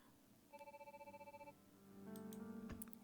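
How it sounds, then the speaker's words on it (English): A home telephone rings in a wolf-themed video game, a steady pulsing electronic trill repeating for about a second, then a different ringing tone joined by a low hum, fairly faint and with no one speaking. "our home phone rang."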